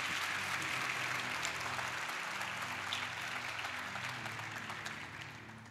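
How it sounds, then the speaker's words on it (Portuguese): A church conference audience applauds steadily, a dense wash of clapping that slowly fades toward the end. "Você pode dar um aplauso para Jesus aí"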